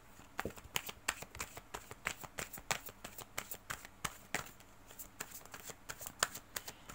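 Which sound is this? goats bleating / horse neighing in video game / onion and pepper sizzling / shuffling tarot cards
shuffling tarot cards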